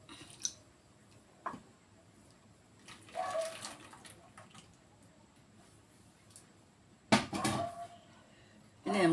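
A kitchen container is washed under running water during batter preparation for achappam, giving short bursts of splashing and water rushing between quiet gaps, with occasional knocks of the vessel.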